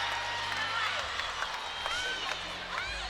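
Crowd at the PMAC applauds and cheers after a gymnastics floor routine, a steady wash of clapping and voices across the arena with shouts poking through, while a commentator talks over it.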